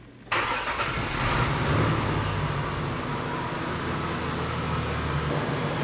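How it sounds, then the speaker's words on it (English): A Ford Ranger 4.0L V6 engine cranks and catches, then settles into a loud, steady idle that continues to the end. "I'm going to turn on the engine, let the water pump circulate"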